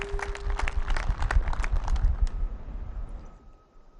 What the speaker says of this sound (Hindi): दोस्तों, जोरदार तालियां माने प्रधानमंत्री जी के लिए